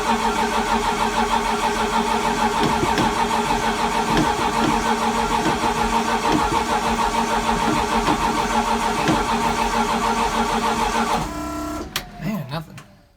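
An 800hp big-turbo Foxbody engine cranks over on a cold start after months of sitting, with a steady, loud, continuous whir for about eleven seconds before it cuts off and falls quiet without catching.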